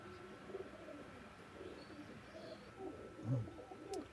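Pakistani Teddy pigeons coo softly and low, a few faint throaty calls spread over a quiet background, with no voices.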